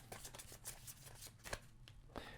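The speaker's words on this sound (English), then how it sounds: "we're going to shuffle the unique buildings deck" A deck of cards from the Tiny Towns board game is shuffled by hand, a quiet series of quick papery riffles and snaps heard close up with no talk.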